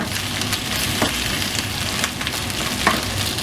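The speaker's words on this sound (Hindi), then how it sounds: "2 से 3 मिनट इस भिंडी को फ्राई किया है।" Okra (bhindi) frying in a pan for bhindi do pyaza, giving a steady loud sizzle with occasional stirring scrapes and clicks throughout.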